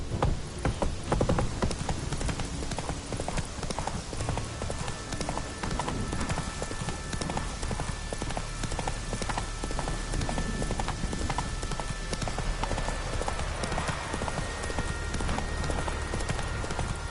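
Horse hooves pound in a steady, rapid clip-clop gallop in The Witcher 3 video game, loud and close for the whole stretch, with a faint background hum and brief low voice.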